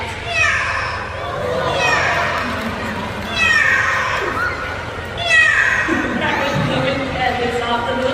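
A person imitates a cat, giving three drawn-out, wavering meows one after another, close and fairly loud over a background of children's chatter.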